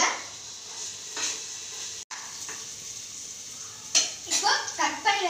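Chopped onion and green chilli sautéing in a pan for a vegetable kurma, a soft continuous sizzle broken by a few sharp utensil clinks and scrapes, with a dog barking nearby toward the end.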